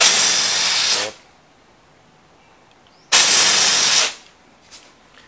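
Refrigerant gas hisses in two loud, close bursts while air conditioner refrigerant pipes are flushed clean, each blast lasting about a second with a short quiet gap, then a faint brief puff, with no talking.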